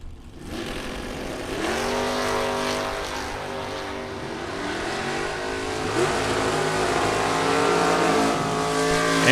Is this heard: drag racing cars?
yes